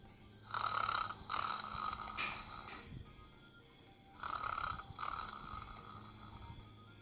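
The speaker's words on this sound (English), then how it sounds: "His loud snores echoed throughout the valley." Two long, rasping snores, each a pair of harsh breaths, fairly faint and distant-sounding, separated by a quiet pause.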